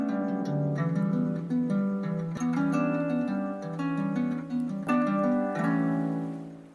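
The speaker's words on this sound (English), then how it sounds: "Here is the sound of kithara." Ancient Greek kithara, a plucked lyre, played alone in a quick run of bright ringing notes with a repeating rhythmic pattern, close and clear throughout.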